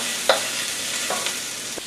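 Onions and red pepper stir-frying in a pan, an even close sizzle broken by a few short utensil scrapes and taps.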